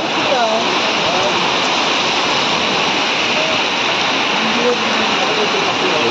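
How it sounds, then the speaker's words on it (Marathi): Heavy village rain pours in a steady, dense roar that fills the whole stretch without a break, loud and close, with faint voices murmuring underneath. "मित्रांनो पाऊस बघा किती आहे"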